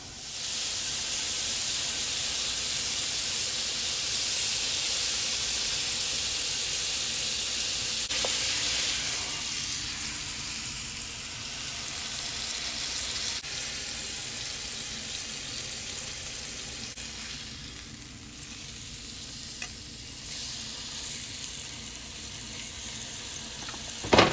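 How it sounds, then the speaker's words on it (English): Pot roast seasoned and oiled sears at 350 in a pan, giving a continuous loud sizzle and steamy hiss that eases slightly midway, with no talking. "So we're gonna go ahead and let this saute."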